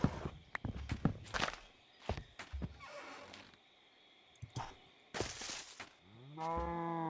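Cow mooing in a video game, a low harmonic bellow near the end that follows a series of footstep-like thumps and clatter.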